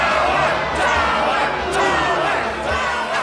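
An angry cartoon crowd shouts together in a dense, loud mass of overlapping voices, a rowdy mob clamor that holds steady without pause.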